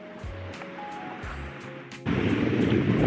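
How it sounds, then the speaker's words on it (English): Ocean waves wash onto a low-tide beach beside mangroves with brownish water, a soft surf that swells into a louder, steady rush, with wind buffeting the microphone and faint thumps along the way. "There's the ocean right there"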